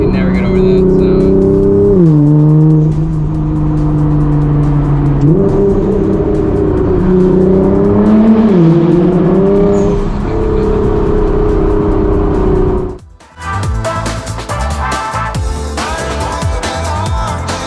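An 800hp Liberty Walk Nissan GT-R passing under a bridge, its engine loud and close, droning and rising and falling in pitch with each throttle change, then a sudden drop and a sharp, crackling rev burst.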